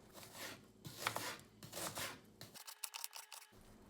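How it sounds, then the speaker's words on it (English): Knife dicing an onion on a cutting board, a quick series of close, crisp chopping taps and cuts, fairly faint, with no talking. "Next, we'll want to take the onion, once we have all the pieces off, and cut it and dice it into smaller pieces."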